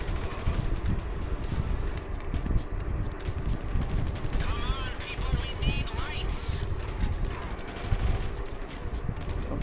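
Rapid bursts of gunfire crackle in a video game heist setup mission, mixed with game effects and players talking over the shooting.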